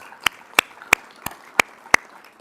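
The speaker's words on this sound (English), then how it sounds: "So a round of applause for all our cross-country athletes." Six sharp, evenly spaced hand claps in a quiet room during a school board meeting honoring cross-country athletes; the crisp claps sound like only one or a few people.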